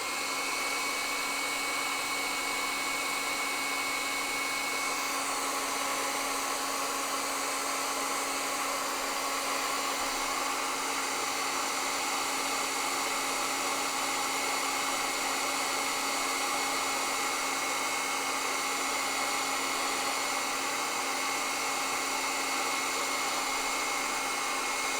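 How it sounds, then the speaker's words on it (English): A hair dryer runs steadily on its cold setting at moderate distance, a continuous even whoosh with a faint whine held for the whole stretch, with no voices. "So, hairdryer is being turned on."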